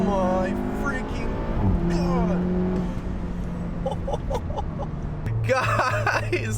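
A tuned VW Golf R with a stage 1 ECU/TCU tune, intake and 3-inch exhaust pulls hard from a launch-control start in first gear, the engine note climbing loud and continuous for several seconds, with voices over it.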